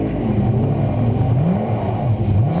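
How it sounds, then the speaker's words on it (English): A Mercedes GT3 race car pulling away from the pits at a GT Asia Series race in Zhuhai, a loud steady engine roar with a pitch that rises and dips over a couple of seconds. "And away goes the Mercedes."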